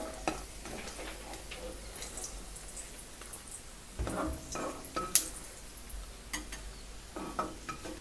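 Cashews and raisins fry in ghee in a pan, giving a faint, steady sizzle punctuated by a few soft clinks and scrapes of stirring.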